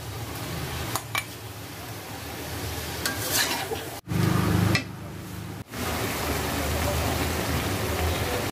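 Meat with cauliflower, mushroom and other vegetables frying in a pan, a continuous close sizzle broken by a brief pause and a burst of louder scraping and stirring midway.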